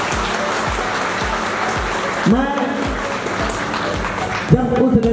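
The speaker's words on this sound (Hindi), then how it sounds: "तालियां।" An audience claps steadily as a dense, even patter filling the whole stretch, while a voice and some low rhythmic thumps sit over the applause.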